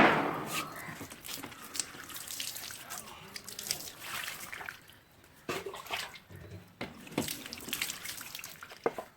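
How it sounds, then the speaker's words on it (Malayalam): Running water pours and splashes onto an old tyre, surging and easing in uneven bursts, close by. "നമ്മളിത് നന്നായിട്ട് വെള്ളത്തിൽ കഴുകാണ്"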